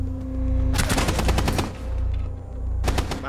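Rapid automatic gunfire from a Rainbow Six Siege match on the Kafe map, a dense close burst lasting about a second, then a quieter stretch and another sharp burst near the end.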